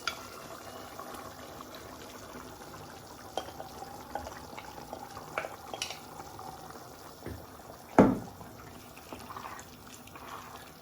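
Chili con carne at a steady rolling boil in a pot, a soft continuous bubbling with a brief sharp clatter near the end; no one speaks.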